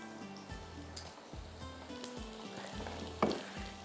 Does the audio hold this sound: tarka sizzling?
yes